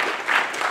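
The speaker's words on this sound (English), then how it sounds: "and Scott, I just want to give you a round of applause." An audience at the close of a storytelling program claps together in a brief, dense burst of applause, with no voices over it.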